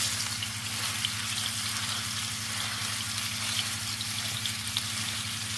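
Minced meat sizzles in hot oil in a cottage pie pan, a steady close frying hiss under a low, constant background hum, with no talk.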